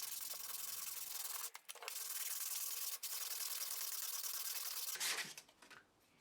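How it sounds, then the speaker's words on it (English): Steady, continuous sanding of a wooden mallet handle, a dry rasping rub with brief pauses and bumps, close and fairly loud, no voices. "Now we can give the handle a quick sanding to remove any remaining sharp edges and splinters."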